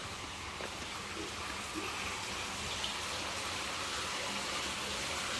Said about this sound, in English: I hear some running water.